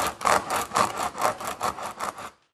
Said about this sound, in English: while sliding the reamer tool in and out, we make sure it goes in a circular pattern